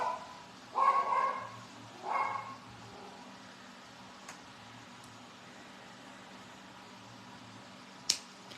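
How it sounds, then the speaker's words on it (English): A neighbor's dog barks a few times in a quiet room, two short bursts near the start, then a faint sharp click later on. "Oh, the neighbor's dog is out."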